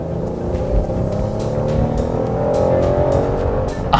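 2016 Ford Explorer with a V6 driving and accelerating, a steady engine drone that rises gradually in pitch as the vehicle picks up speed, heard from inside the cabin.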